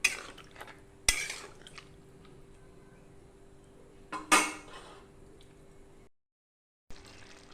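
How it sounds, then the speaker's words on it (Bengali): Metal pot lid clanks onto a steel pot of a vegetarian pointed gourd and rice dish cooking over a raised gas flame, two sharp clatters with a softer rattle between them, close and alone, then brief silence. "জল দিয়ে এবার গ্যাসের ফ্লেমটা একটু বাড়িয়ে দিয়ে ঢেকে দেবো।"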